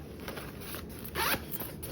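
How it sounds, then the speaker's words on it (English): Zipper pull on a sewn tote bag's inside zipper pocket, a run of small rasping teeth clicks with a brief louder burst midway, close and alone. "zipper pocket"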